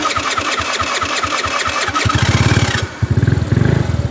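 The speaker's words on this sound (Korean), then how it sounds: "이렇게 시동 걸려 지금 시동 걸리는데" Scooter engine with a faulty key box and locked handlebars starts up, its fast mechanical chatter giving way to a louder, rougher idle with pulsing beats, close and steady, no talking.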